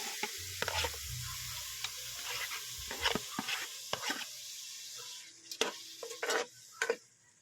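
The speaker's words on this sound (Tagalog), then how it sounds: "Tsaka haluin. Lagay yung papaya." Ginataang gulay vegetables with papaya being stirred in a pot, a faint sizzle running steadily beneath scattered scraping and clinking strokes of the spoon against the pot, a few louder knocks near the end.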